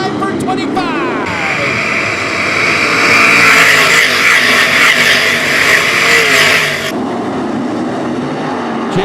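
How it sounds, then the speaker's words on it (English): 305 sprint cars racing on the dirt oval at Attica Raceway Park during an A-Main, with a loud roar of engines that swells as the pack passes close by, under a race announcer's continuous commentary. "Jamie Miller rockets into the lead out of turn 2. We got him 4 wide in the back of the pack"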